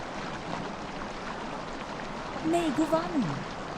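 A huge waterfall in the Lord of the Rings Online video game roars as a steady, even hiss of falling water, with a voice speaking briefly over it near the end.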